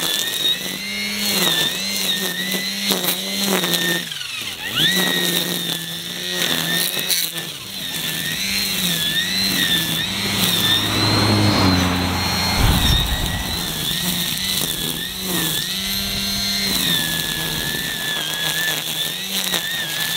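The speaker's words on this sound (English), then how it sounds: "I'm gonna use the line trimmer to clean the ditch up a little bit." A Milwaukee M18 battery line trimmer cuts grass in a roadside ditch, its whirring motor droning loud and close for the whole stretch, pitch dipping and rising as the line bites into the growth.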